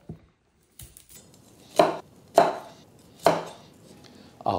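A knife chops a head of broccoli into florets on a board, three sharp close thuds after a few lighter taps, with quiet pauses between them.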